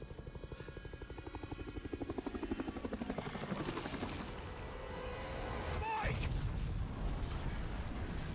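A helicopter's rotor thumps rhythmically and loudly in the video game Resident Evil 4 Remake, joined by a sudden blast near the end as the engine roar swells.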